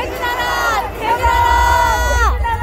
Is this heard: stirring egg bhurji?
no